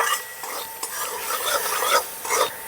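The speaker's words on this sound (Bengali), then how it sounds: "নাড়াচাড়া করে মিশিয়ে নেব।" Spoon stirring chili powder, salt and turmeric into a pea filling for mini singara, steady scraping and light sizzle in a pan up close, with no voices.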